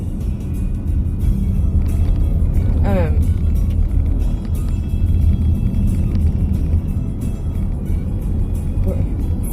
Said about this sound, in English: I got distracted by the traffic